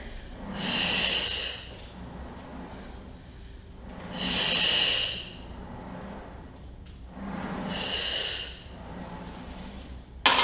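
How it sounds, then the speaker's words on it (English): Three slow, forceful breaths during reformer Pilates twists, each a loud hissing exhale lasting about a second and a half, evenly spaced roughly every three to four seconds with quieter pauses between. "Exhale, twist. Inhale, return."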